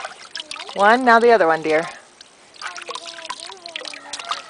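A chicken being washed in water, with small trickling and splashing sounds beneath a woman's close, steady voice giving instructions, then quieter dribbling and a second voice.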